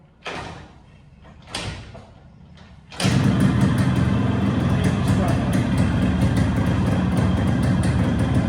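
A Yazdi motorcycle: a few thumps and knocks, then the engine catches at about three seconds and settles into a loud, steady, close idle that runs to the end.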